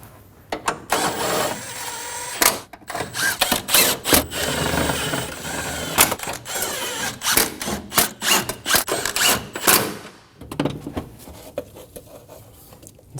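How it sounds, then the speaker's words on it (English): A ratchet snugs down bolts on a 2008-2015 Scion xB 2.4L engine bay, giving repeated close, loud bursts of rapid clicking with brief pauses between them and a quieter tail at the end. "Go around and snug down all of the bolts."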